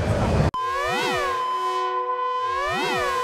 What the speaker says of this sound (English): Maybe some more examples of how LFO can affect